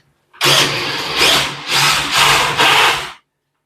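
A power drill drives a fastener into a door during fitting, whirring loudly in several connected bursts with brief dips in between before stopping abruptly, close and alone.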